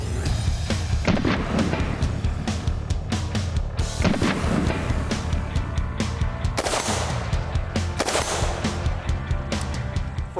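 FN SCAR 17 rifles in 7.62 (.308) with muzzle brakes fired at an outdoor range, loud repeated close shots in quick strings with echoing booms throughout, no talking.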